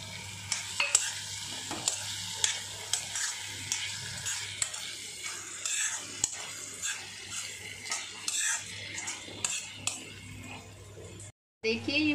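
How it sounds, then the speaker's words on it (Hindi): Boiled drumstick pods simmering in masala on a low flame hiss softly as a spoon scrapes the pan in a steady, repeating rhythm. A voice is heard faintly at times, and there is a short dropout near the end. "अब हम इसमें ये जो फली मैंने उबाल के रखी थी वो हम इसमें डालेंगे और इसको 2 से 3 मिनट धीमी आंच में पकाएंगे।"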